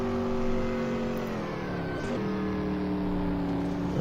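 A race car with a stripped-out interior on its out lap, its engine droning steadily close up from inside the cockpit, with a brief dip and shift in pitch midway before settling into a sustained hum.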